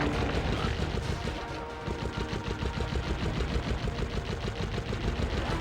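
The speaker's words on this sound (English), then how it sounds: "it's time to go on a ghost hunt on a hovering, repeatedly shooting plasma cannon." A hovering plasma cannon in the Sly Cooper video game fires in a rapid, steady stream of loud, evenly spaced mechanical shots that continue without pause for several seconds.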